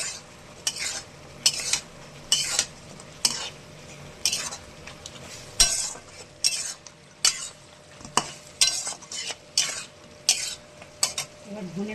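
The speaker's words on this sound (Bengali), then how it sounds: "এবার মাছটা দিয়ে আমি কষাবো।" Fish is stirred and sautéed in hot oil in a pan, with repeated bursts of spatula scraping and sizzle in an irregular rhythm, close and fairly loud, with softer frying between strokes.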